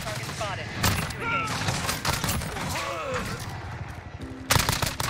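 An AUG rifle fires in bursts in the Modern Warfare video game. Rapid fire crackles in several quick volleys, with a louder burst near the end and game sound effects mixed in.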